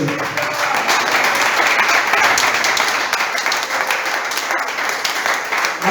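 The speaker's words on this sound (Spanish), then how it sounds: "Aplaudan." A church congregation applauds during a sermon, a dense, steady wash of clapping from many hands that fills the room at close range for several seconds without pause.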